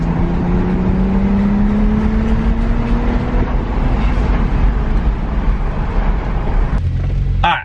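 Tuned BMW 135i with an N54 engine pulls hard under acceleration, its rising exhaust drone loud and close throughout, ending with a quick shift-like break near the end.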